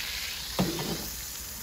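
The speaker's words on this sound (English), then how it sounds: "Hear that sizzle?" Ribeye steak sizzling in a very hot pan inside a wood-fired Gozney Dome oven, a steady close hiss with a brief louder burst partway through, no talking.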